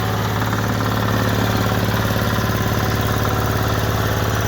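A Kentavr 10D mini tractor's small diesel engine idles with a steady, rapid knocking chug, loud and close, running continuously without pause.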